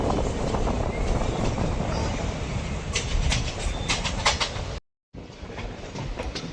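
Madgaon passenger train arriving at Shirur railway station on the Konkan line in monsoon, a steady close rumble of wheels with light clatter and squeaks, cut by a brief dropout before the rolling noise resumes.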